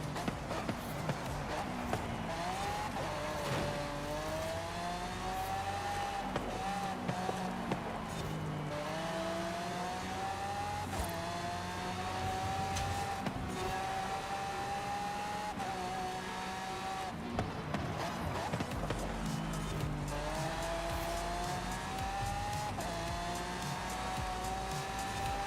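Racing cars in a video game, including a Porsche, with a sustained engine whine that rises and falls through gear changes and tire noise over a long stretch, loud and continuous with no talk.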